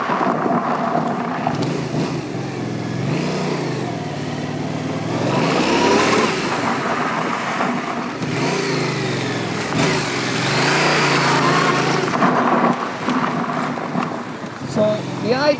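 A Yamaha FZ7 motorcycle hook-slides on gravel under hard rear braking, its engine droning loud and steady with rising and falling surges over a rough, continuous wash of tire noise.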